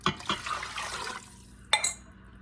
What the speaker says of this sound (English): besides the 2 cups of water, I'm going to put in 3 cups of chicken broth